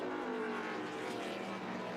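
Camping World Truck Series race trucks circle the track during practice at Martinsville, a steady, loud engine roar filling the air without any break.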